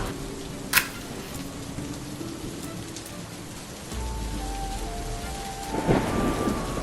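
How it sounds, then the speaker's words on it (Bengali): Heavy rain pours steadily outdoors, broken by a sharp crack of thunder early on and deeper rolling rumbles later, with no voices. "বাইরে কি বৃষ্টি হচ্ছে বাইরে কি মেঘ ডাকছে"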